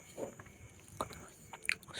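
Crunchy dark chocolate is bitten and chewed close up, giving a few quiet, irregular crunches and soft mouth sounds spread across a short, otherwise hushed moment.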